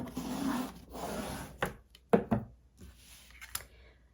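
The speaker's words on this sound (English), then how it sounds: "And I will burnish this." A tool is rubbed firmly across a folded paper album page, making soft scraping strokes in a few longer passes followed by short rubs and taps, close and fairly quiet, with no talking.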